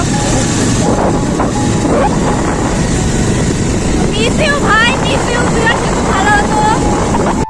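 A motorbike engine drones steadily with heavy wind rush while riding a foggy, pine-lined mountain road near Lamahatta and Tinchuley; voices talk loudly over the constant roar.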